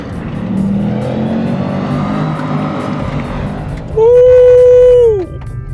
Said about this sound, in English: Now let's see what this Chevy SS will do.